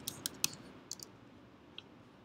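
Typing on a computer keyboard while writing CSS code produces a few faint, sharp clicks in a short burst and then a couple of scattered taps in a quiet room.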